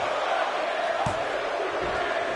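A wrestling arena crowd in Anaheim roars and chants steadily, a dense, continuous wash of many voices with a single thud at about one second and commentary mixed in.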